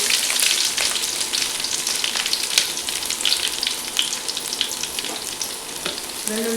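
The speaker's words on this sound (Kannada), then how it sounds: "ಎಣ್ಣೆ ಕಾದಿತ್ತು, ತೆಂಗಿನೆಣ್ಣೆ ಹಾಕೊಂಡಿದೆ, ಸ್ವಲ್ಪ ಸಾಸಿವೆ ಹಾಕ್ತೆ," Mustard seeds and garlic fry in hot coconut oil, giving a loud, continuous sizzle with scattered crackles and pops throughout.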